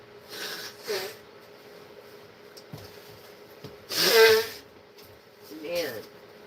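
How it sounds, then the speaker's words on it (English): Two bursts of forceful nasal blowing into a tissue, the second louder, with a quiet pause and faint rustling between them. "I've got to blow my nose real quick."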